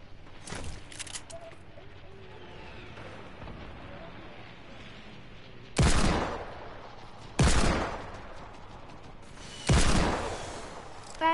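Hand cannon gunfire in a shooter video game: four loud, sharp shots, one near the start and three spaced a second or two apart later on, over quieter game ambience.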